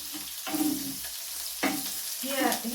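Onions sizzle as they fry in oil with pork, a steady hiss with louder bursts of crackling each time the pan is stirred, three times in quick succession.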